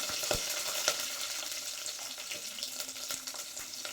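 Green chilies and a whole garlic bulb frying in hot oil, a steady crackling sizzle with scattered pops that runs without a break.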